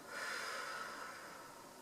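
One long, airy exhale blown out through the mouth, close and soft, rising quickly then fading gradually with no voices over it.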